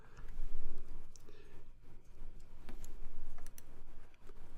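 Computer keyboard keys pressed one at a time in Adobe Illustrator to nudge a selection, sharp close clicks scattered over a steady low room hum.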